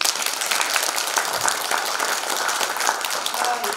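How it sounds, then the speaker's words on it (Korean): An audience at a Korean commemorative forum gives a steady round of applause, a dense continuous patter of many hands clapping throughout. "박수 한번 쳐주시죠."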